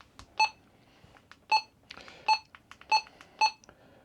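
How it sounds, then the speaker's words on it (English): A handheld GMRS radio gives five short, clear key beeps, one per button press at uneven intervals, with faint clicks of the keys between them. "That's the key beep."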